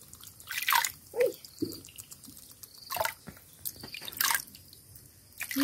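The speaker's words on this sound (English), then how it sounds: "Oh, this one's just water. Just rinse you off." Water poured over a baby monkey to rinse it, heard as scattered drips and small splashes coming in irregular bursts, fairly close, with no talk.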